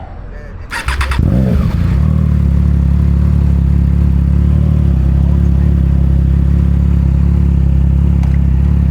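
A Triumph Trident 660 motorcycle engine fires up after a brief clatter and settles into a loud, close, steady idle with a deep throbbing rumble, while a voice talks over it.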